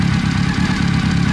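A 2000 Honda CBR600 F4 motorcycle engine idles steadily and close up, a constant low even rumble with no voices.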